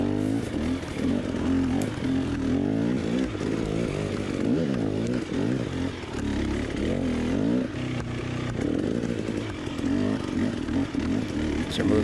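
A Gas Gas EC300 two-stroke enduro motorcycle engine climbing and dropping through canyon trails, revs rising and falling constantly in a buzzing, raspy drone, close and loud throughout.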